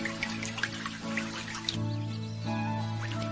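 Water poured from a container over an animal's dirty legs, a soft steady trickle with small drips and splashes at close range, with no one speaking.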